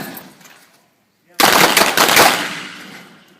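A single sharp, loud gunshot at close range at a shooting range rings out after a quiet pause, followed by a long reverberating echo that fades away.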